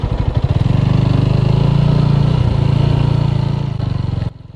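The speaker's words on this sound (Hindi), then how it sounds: "सबसे पहले तो जो आप प्रोमिनेंटली सुन सकते हो वो है इस बाइक की एग्जॉस्ट नोट." A TVS Apache RTR 200 4V motorcycle engine and exhaust note while riding, a loud, steady droning hum that holds close and even, easing slightly before cutting off abruptly near the end.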